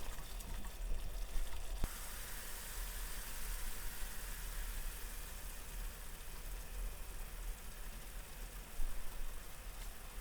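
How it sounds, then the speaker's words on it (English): Yogurt or cream is poured slowly into a pan of simmering chicken karahi, a soft steady liquid rush with faint sizzling that stays even and close throughout, with no talking. "then slowly pour in the yogurt or cream"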